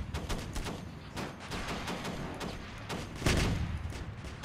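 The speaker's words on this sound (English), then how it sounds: "here comes the artillery" Artillery fire in the Home Wars video game: a rapid, dense barrage of booming impacts and shots running throughout, swelling into a louder blast near the end.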